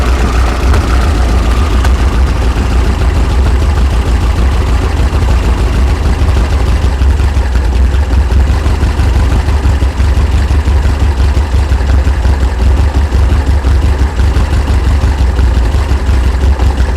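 A 1973 VW Super Beetle air-cooled engine with dual 40 IDF carburetors idles with a rough, uneven note, loud and close, steady throughout with no talk.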